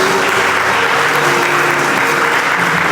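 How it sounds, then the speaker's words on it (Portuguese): A church congregation at a Sunday service applauds steadily for about three seconds: a dense, even wash of many clapping hands, loud and close, with no voice standing out. "Você pode aplaudir o Senhor."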